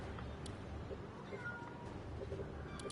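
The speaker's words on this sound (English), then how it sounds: "You can hear my cat yelling back there." A cat meows and yowls several times in the background, faint and somewhat distant, over a steady low room noise.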